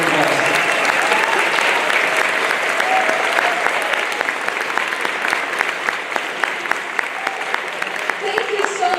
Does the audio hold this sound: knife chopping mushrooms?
no